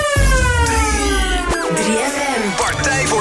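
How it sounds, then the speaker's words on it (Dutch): A siren sound effect wails with sweeping pitch over a pounding dance record on a radio broadcast, loud and up front, with a brief swoop and sharp accents midway. "En dat klinkt gewoon beter met een sirene."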